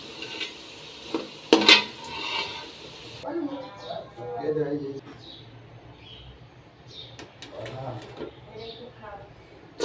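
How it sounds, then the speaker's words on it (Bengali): Deep-fried potato pieces, browned for chicken biryani, are scooped out of a hot pan with clinks and scrapes of a metal utensil and faint sizzling, while a voice talks over it. "এখন হচ্ছে আমি আলু ভাজাগুলো উঠিয়ে নেব লাল লাল করে ভেজে নিয়েছি"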